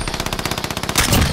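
Rapid automatic gunfire rattles through a video game match, a loud, close burst of evenly spaced shots with a heavier blast near the end.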